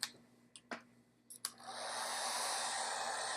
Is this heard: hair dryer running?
yes